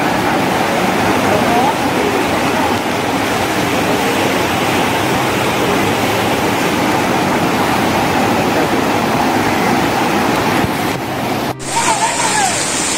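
Floodwater rushes through a street in Honduras during Hurricane Iota, a loud, steady broadband roar that stays constant throughout, with voices faintly under it and a brief break near the end.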